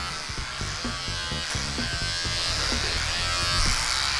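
An electric hair clipper buzzes steadily and close while shaving a head down to zero, its motor drone continuous with small rhythmic pulses as it passes over the scalp.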